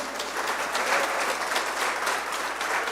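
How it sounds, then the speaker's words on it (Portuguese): A church congregation applauds, a fairly faint, even spread of clapping heard from a distance without any voices. "Aplauda Jesus por isso"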